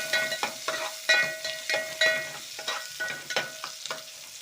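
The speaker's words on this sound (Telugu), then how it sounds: "ఆనియన్స్ కొద్దిగా వేపనియాలి, అంటే రెడ్ అవ్వాలి." Onions frying in a pan while a spoon stirs them, rhythmic scraping strokes with a faint metallic ring over a soft sizzle, close and moderate, no talking.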